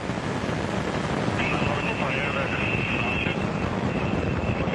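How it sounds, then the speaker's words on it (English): A Soyuz rocket carrying a crew to the International Space Station roars at liftoff, a dense broadband rumble steady and loud throughout, with a radio voice heard over it. "First stage engines are at maximum thrust. Main ready, liftoff."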